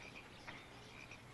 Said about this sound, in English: What that noise? What? You mean the frog?